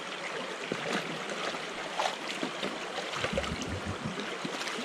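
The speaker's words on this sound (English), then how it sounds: "It's just good natural spring. I don't know if it's spring or not, but good natural creek water." Natural creek water flowing outdoors, a continuous bright rushing and trickling wash with small splashy bursts, fairly close and steady, with no talk.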